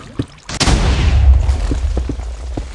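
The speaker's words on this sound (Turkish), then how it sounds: "Bir yerlerde bir şey patladı ama." A sharp pop followed by a loud, sustained explosive boom in Minecraft that rumbles and slowly decays, with faint thuds and voices behind it.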